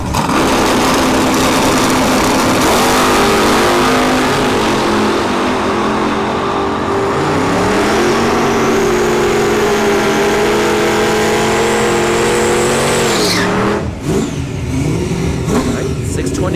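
Drag racing cars at Bradenton Motorsports Park during sportsman finals: loud, near engines rev and climb in pitch through long rising sweeps before cutting off abruptly, with a voice talking over them.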